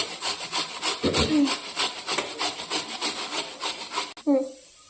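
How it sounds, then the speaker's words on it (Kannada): A radish is grated by hand on a grater, the way coconut is grated: a quick, even series of close, rasping scrape strokes with a brief knock partway through, and no talking. "ಈ ಮುಲಂಗಿನ ತುರಿಬೇಕು ಈ ರೀತಿ"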